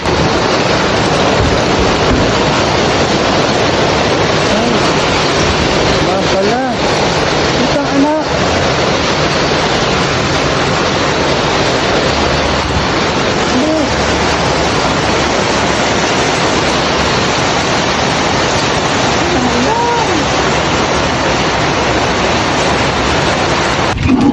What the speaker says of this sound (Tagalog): Basa na sila, Chu. Malakas pa naman ang ulan.